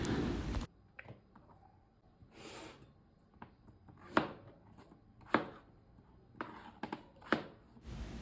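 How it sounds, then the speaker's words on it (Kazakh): A knife chops garlic into thin round slices on a board, giving a series of separate, crisp cuts at an irregular pace, close by against a quiet background. "Чеснокты міне көріп тұрғандарыңызда осындай жіңішке етіп, домалақ етіп турап алыңыздар."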